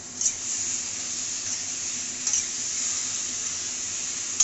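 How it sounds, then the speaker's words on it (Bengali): Water poured into a pan of potatoes and eggs for egg curry, a steady close hiss with a couple of brief splashes. "এখন ডিমটা দিয়ে দিয়েছি ওর মধ্যে, দিয়ে এবারে জল ঢেলে দেবো"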